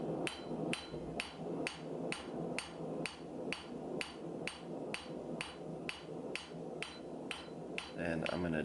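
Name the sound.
rounding hammer striking billet on Trenton anvil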